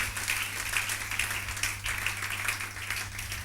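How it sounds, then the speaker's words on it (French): A church congregation applauding during a sermon, a dense, even wash of many hands clapping, fairly faint and distant, steady for a few seconds with no talk over it. "Est-ce qu'on peut acclamer la parole du Seigneur?"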